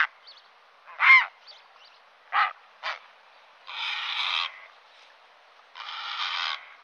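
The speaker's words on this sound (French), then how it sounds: "on retrouve notamment le héron cendré" A grey heron gives several harsh, croaking calls, some short and sharp, others longer and raspy, loud and clear against a quiet background.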